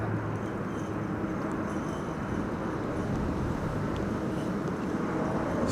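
Turkish Airlines Airbus A350 arriving from Istanbul at Amsterdam Schiphol in high storm winds, a steady broadband jet rumble mixed with heavy wind noise, continuous and fairly loud throughout.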